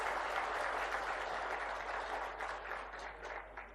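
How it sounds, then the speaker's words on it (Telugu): An audience claps at a Telugu public gathering honouring local leaders: dense, sustained applause from many hands, loud at first and gradually thinning toward the end, with no voices over it. "మన అందరం కూడా పెద్ద ఎత్తున చప్పట్లతో వారిని అభినందించాల్సిన"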